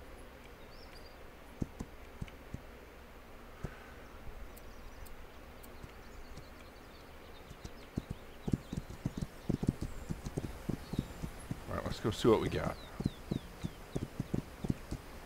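Horse hooves clip-clop in a frontier video game, sparse and distant at first and then a quicker, louder run of steps that comes closer, with someone talking briefly over it.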